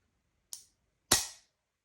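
Two sharp mechanical clicks from a CZ Shadow 2 pistol being dry-fired with a double action trigger pull, the first lighter and the second louder with a brief ring-out, isolated and close with no talk.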